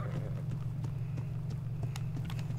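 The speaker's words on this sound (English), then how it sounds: "There's a horse here." A horse in a video game plods along with soft, steady hoof clip-clops under a constant low hum, close and even in rhythm, ending with a brief louder bump.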